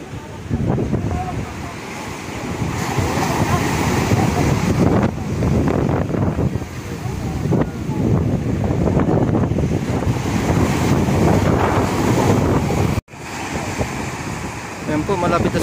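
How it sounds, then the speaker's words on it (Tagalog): Big sea waves washing in at the shore near a marine base in Ternate, Cavite, during a triathlon, a continuous loud roar of surf mixed with heavy wind buffeting the microphone. "Ang laki po ng alon"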